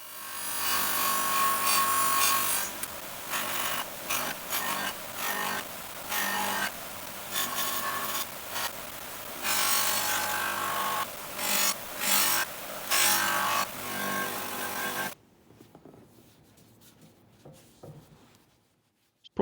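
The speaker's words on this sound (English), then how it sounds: "just getting a feel for this first polishing mop" A polishing mop buffs an aluminium cam cover from a 1967 Jaguar E-Type engine with a loud, continuous abrasive whirring rub that pulses as pressure changes, then stops abruptly, leaving a quiet room.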